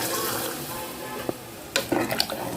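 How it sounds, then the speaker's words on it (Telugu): A little water poured into a sizzling pigeon pea masala curry in a pan, a soft frying hiss broken by a few splashy, stirring bursts near the end. "ఇప్పుడు నీళ్ళు పోసుకుందాం ఫ్రెండ్స్ కొద్దిగా"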